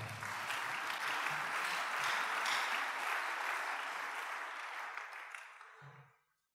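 A church congregation claps and cheers in sustained applause that holds steady, then fades out near the end, with a faint low voice just after it dies away.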